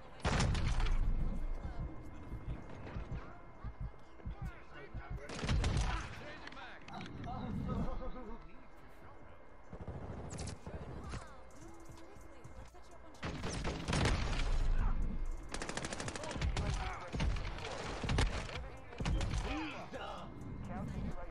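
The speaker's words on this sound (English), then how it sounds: "Who is shooting me?" Gunfire in a shooter video game, with dense bursts of rapid shots and booming impacts amid mechanical clatter, loud and near, recurring over about twenty seconds while people talk.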